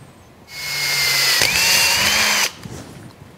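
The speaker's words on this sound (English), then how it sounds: "Using a 9/64 inch drill bit, I'm going to very carefully drill in the location that I had previously punched." A power drill bores through aluminum sheet metal with a 9/64 inch bit, a loud, steady high-pitched whine lasting about two seconds before cutting off abruptly, heard alone at close range.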